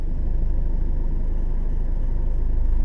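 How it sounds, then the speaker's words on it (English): A car engine idles and runs steadily with a continuous low rumble during a driving lesson, loud and close from inside the vehicle, with no talk over it. "you can put the clutch down, that'll get the car started"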